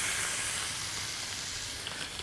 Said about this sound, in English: the onions, they're just gently cooking